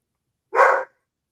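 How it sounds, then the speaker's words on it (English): A single short dog bark, sharp and fairly loud, standing alone in otherwise silent surroundings. "I don't know what he's barking at."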